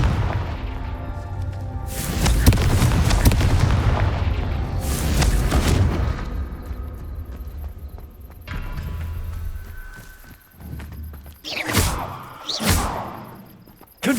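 Fire spell explosions from a Hogwarts Legacy wizard duel, a couple of heavy booming blasts early followed by sharp, brighter bursts later, loud and alone with no talk.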